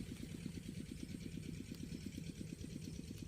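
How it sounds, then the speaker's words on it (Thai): A small tractor engine pumping water into a rice field chugs steadily at a fast, even rhythm, loud and close, with a continuous mechanical hum and no other sounds. "เอาเครื่องรถไถนะครับรถไถเล็กครับมาสูบน้ำนะครับวันนี้"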